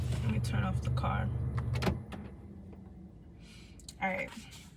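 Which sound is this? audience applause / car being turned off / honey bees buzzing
car being turned off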